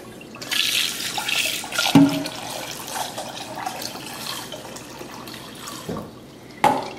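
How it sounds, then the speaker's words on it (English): Cold tap water runs steadily into a pot of hard-boiled eggs, a continuous close splashing stream with a couple of sharp clunks from the pot partway through and near the end. "on the fourth filling of the pot, I just throw some more cold water in there"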